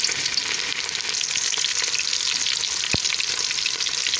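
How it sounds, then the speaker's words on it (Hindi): Egg koftas (nargisi kofta) fry in hot ghee with a steady, dense sizzle and crackle that runs unbroken throughout, plus one brief sharp tap near the end. "देखिए अब इसे अच्छे से फ्राई करके निकाल लेते हैं।"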